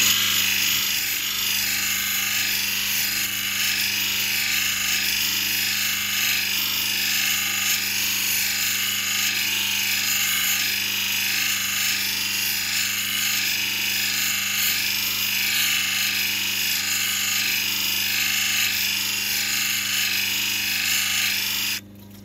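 Dark base opal being ground and polished on a wheel, a steady loud whirring hum with a high whine that runs without break until it drops off at the very end.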